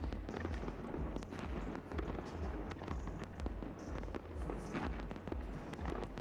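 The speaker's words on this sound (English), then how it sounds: "Look at the fireworks." Fireworks bursting continuously during a New Year's end-of-decade celebration, with dense overlapping pops and booms at mid distance, steady and loud throughout.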